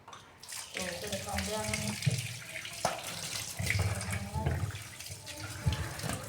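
Water runs steadily from a tap and splashes onto a metal surface, with occasional clanks and scrapes as the pan is moved under the stream.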